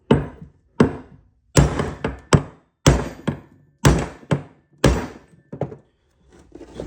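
A socket is hammered against the inner race to drive a bearing into a Polaris front differential, producing about a dozen sharp, close metallic thunks in an uneven rhythm, some in quick pairs, with short gaps between.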